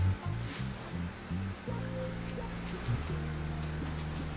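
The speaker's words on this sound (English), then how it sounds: "That waterfall is doing its thing." A waterfall and flowing water in the Genshin Impact video game make a steady rushing wash, with a low game music line playing throughout.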